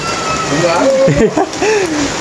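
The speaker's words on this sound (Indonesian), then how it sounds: "Hujan." Steady rain hisses in a crowded Jakarta neighborhood, a constant wash of falling water under a voice speaking briefly in the foreground.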